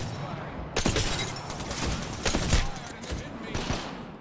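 Gunfire in the PC battle royale game Apex Legends during a tournament match, dense rapid bursts of shots with booming impacts layered over continuous game noise.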